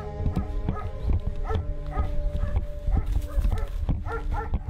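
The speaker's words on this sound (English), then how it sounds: "it's the camp dog that gives away the location" A camp dog at an illegal logging camp deep in a Cambodian protected forest barks repeatedly in short, rhythmic bursts, fairly close and loud, amid a busy outdoor background.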